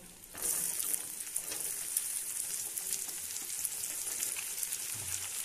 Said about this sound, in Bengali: পেঁয়াজ আর কুচানো কাঁচা লঙ্কাটা দিয়ে নিলাম, দিয়ে একটু লাল লাল করে ভেজে নেব